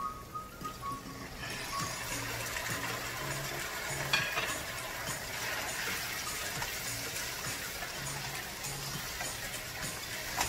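Tomatoes and pepper fry in a pot for ofada stew, a loud continuous sizzle that bursts up after a second and keeps crackling steadily, with faint stirring clinks.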